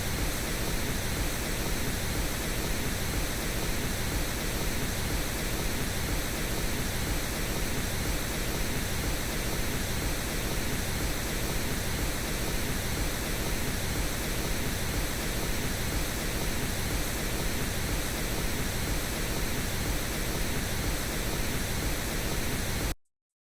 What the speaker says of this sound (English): So I think that's the actual Pink Noise making that sound.